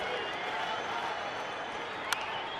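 A baseball stadium crowd of almost 37,000 at a Dodgers game in Arizona fills the space with a steady, distant roar and murmur. A commentator's voice carries over it, and one brief sharp crack stands out near the end.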